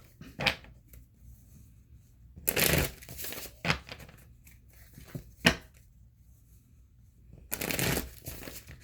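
A deck of Green Witches Tarot cards is shuffled in short riffling bursts, close and crisp, separated by quiet gaps with soft handling noises.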